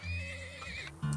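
Horses neigh and whinny in the video game Turmoil, a loud, sustained call with a shaky pitch held across the whole second, followed by a brief lower snort at the end, with faint background game sounds.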